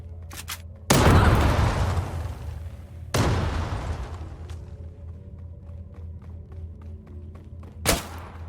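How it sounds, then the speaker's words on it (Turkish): A bomb detonating in the online shooter Zula: two heavy, booming blasts a couple of seconds apart, each rolling off into a long rumbling decay, followed later by a short, sharp pop. "Bombayı kur ve patlat."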